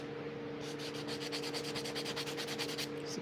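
Sandpaper works a chamfer along the edge of a wooden sheath, a quiet, close rhythmic rasp of about a dozen quick back-and-forth strokes.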